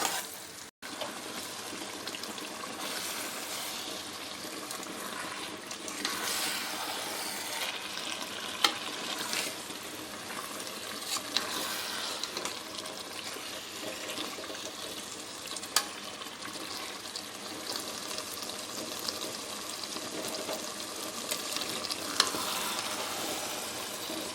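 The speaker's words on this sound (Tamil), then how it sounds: "நல்லா சிக்கனை இன்னொரு அஞ்சு நிமிஷம் நல்லா வதக்கிக்கோங்க" Chicken sizzles and fries in a pan with occasional stirring scrapes, a steady crackling hiss up close for a long stretch.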